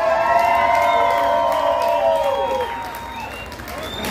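A crowd at a band's concert in Torreón, Coahuila applauds and cheers over sustained instrumental music, with whoops and shouts mixed into a dense, loud wash that eases slightly near the end.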